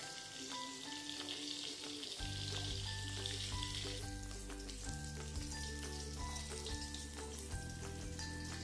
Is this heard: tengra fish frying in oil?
yes